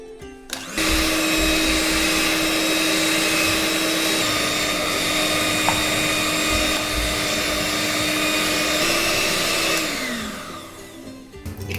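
Electric hand mixer beating powdered sugar into chocolate sponge cake batter, a steady loud motor whir running continuously for about ten seconds before winding down, with no talking.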